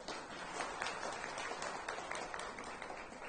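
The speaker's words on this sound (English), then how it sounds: "A final round of applause for our distinguished panel." Faint applause from a conference audience for a panel on resilience building, a soft, even patter of many hands at a distance, continuous through the short stretch.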